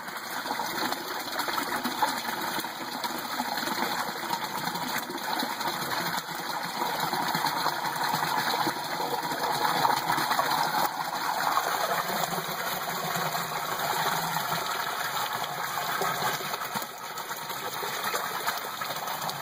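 Water runs steadily from an ABS siphon, a 3-inch pipe stepping down to 1.5-inch, dropping straight into a bucket beside a 40-gallon tank, giving a continuous gushing, splashing roar that stays even with no speech.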